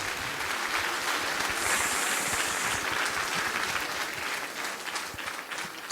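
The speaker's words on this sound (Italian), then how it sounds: "Un applauso per questa formazione di Gadoni." Sustained, even applause from a concert audience for a choir from Gadoni at a solidarity event in Tonara, Sardinia, many hands clapping at once with no speech over it, ending in a sharp final burst.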